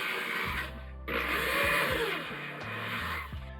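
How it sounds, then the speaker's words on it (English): A power drill bores through punched holes in soft aluminum for chocolate leather roller skates, a loud close whirring hum that dips and surges as the bit catches and breaks through, with a brief pause between holes. "we're going to drill right through each one of those punch holes. Aluminum is a soft metal"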